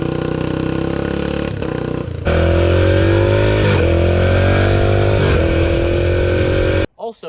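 A motorcycle engine runs loud and close, its rising pitch climbing through the gears with brief dips at each shift before cutting off abruptly at the end.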